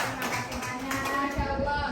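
A group of students in a classroom gives a short burst of scattered clapping, the sharp claps close and fairly loud, with voices mixed in.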